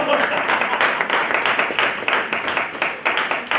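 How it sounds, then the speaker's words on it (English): Audience applause for the Progressive Citizens of Trotwood at a community economic gathering: a steady, dense patter of many hands clapping close by, pulsing slightly throughout with a voice or cheer mixed in. "Let's give them a round of applause."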